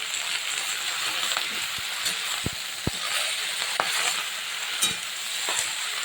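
Spinach and radish frying in a pan for a winter-vegetable spinach dish, stirred slowly: a steady close sizzle broken by scattered scraping clicks of the spoon, with no talking.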